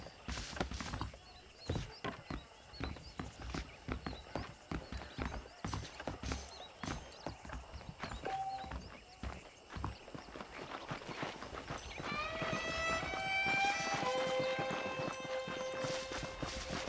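Horse hooves clip-clop in Red Dead Redemption, an irregular stream of close clops that ends in a long, loud whinny.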